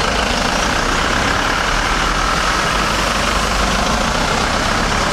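Darjeeling Himalayan Railway vehicles arrive at the station as a heavy engine idles nearby, a loud, constant low rumble with a dense, unbroken roar over the whole stretch.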